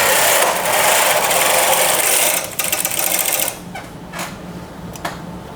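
A machine knitting carriage is pushed across the needle bed, making a loud, steady mechanical whirring rush that stops partway through, followed by a few lighter clicks and clacks.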